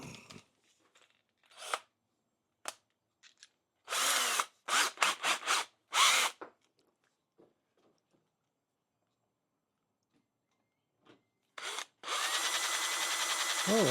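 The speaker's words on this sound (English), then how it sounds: "Oh, that drill's a little wiggly there." A power drill boring a small pilot hole in a 1967 Triumph TR6 sump, several short bursts of whirring and grinding separated by silences, ending in a longer steady run.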